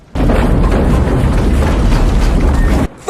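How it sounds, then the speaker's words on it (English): A loud, continuous roaring blast of broadband rumble from movie explosions, sustained for nearly three seconds before cutting off abruptly. "with all these explosions and all this fire"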